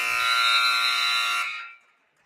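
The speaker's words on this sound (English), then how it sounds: "Eddie with the rebound to Miller at the buzzer is going to be short." A loud basketball buzzer ends the first half of a girls' high school game, Northwestern at Eisenhower. It is one steady, sustained blast of about a second and a half that then cuts off and fades.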